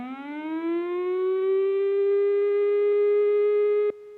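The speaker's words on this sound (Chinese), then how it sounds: "警报的声音是低声5秒、停5秒的方式。" A civil defense evacuation warning siren sounds one long, steady tone that rises slowly in pitch, then holds level for several seconds before cutting off abruptly.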